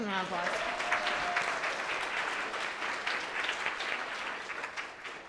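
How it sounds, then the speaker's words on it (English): Sustained applause from a school district board meeting audience for student baseball players, a brief voice at the start giving way to even clapping that fades slightly toward the end. "Give him a round of applause."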